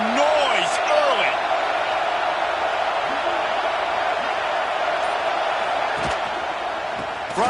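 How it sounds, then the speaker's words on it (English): A college football video game plays stadium crowd noise, a constant loud roar with scattered whoops and cheers, while a commentator talks over it. "This crowd bringing the energy and noise early."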